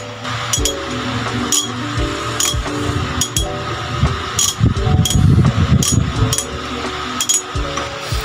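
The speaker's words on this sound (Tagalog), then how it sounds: "Ito yung drive handle nya, 2040. Sound check muna tayo." A 2040 ratchet drive handle clicking close up in rapid bursts of sharp metallic ticks, with pauses and a low rattling hum beneath.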